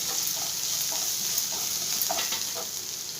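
Raw banana pieces crackle and sizzle in hot oil for a banana fry, a steady close hiss broken by soft stirring scrapes, with no voices.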